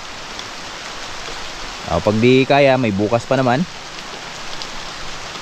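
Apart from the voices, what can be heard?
rain falling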